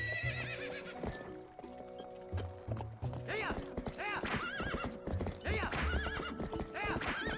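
Epona, the horse in Zelda: Twilight Princess, gallops with steady rapid clip-clop hoofbeats while loud, repeated neighs and whinnies ring out over game music.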